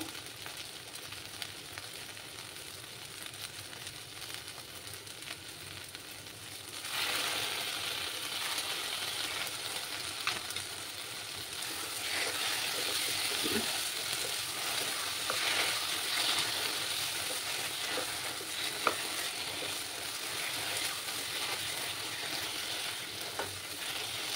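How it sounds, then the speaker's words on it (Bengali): Vegetarian taro leaf greens frying in a pan with ghee give a continuous sizzle that grows louder partway through, with scattered spoon scrapes and clicks from stirring. "এবার আমি এটার মধ্যে, যেহেতু নিরামিষ কচুর শাক, তার জন্য আমি একটু ঘি দেবো"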